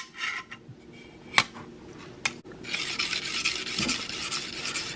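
A broadhead is stroked on an 800 grit sharpening stone, giving soft rasping rubs with a few sharp clicks, then a steadier, louder scraping in the second half, close up with no talking.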